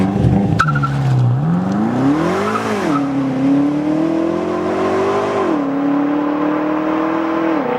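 A BMW F10 M5, a rear-wheel-drive sedan, pulls hard with a loud, close engine note that climbs through the revs, dips at a gear change and climbs again, with a brief tire chirp at the start.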